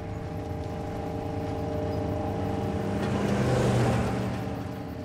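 Old wood-paneled station wagons driving in the Telltale Walking Dead Season 3 game, a steady engine rumble that swells slightly toward the end, sounding like a car passing nearby.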